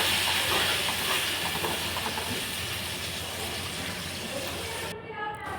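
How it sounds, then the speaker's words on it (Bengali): Onion, ginger, garlic, tomato and green chili paste sizzling in hot oil, a loud continuous hissing fry close by that eases slightly over time, with faint voice in the background. "আর এই যে এখানে পেঁয়াজ, আদা, রসুন, টমেটো, কাঁচা লঙ্কার পেস্টটা তেলে দিয়ে দিলাম"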